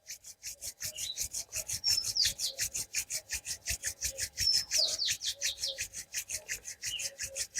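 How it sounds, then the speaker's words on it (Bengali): Two palms rub briskly together in a steady, rapid back-and-forth rhythm, each stroke a close, dry swish, with faint chirping birds in the background. "এরপরে হাতের তালুটাকে ঘষে ঘষে গরম করে নিন"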